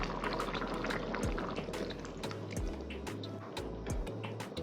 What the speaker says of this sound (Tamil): ஒரு எலுமிச்சைப்பழம் அளவுக்கு புளி கரைச்சி வச்சுருக்கேன். இந்த தண்ணியை சேர்த்துக்கிறேன்.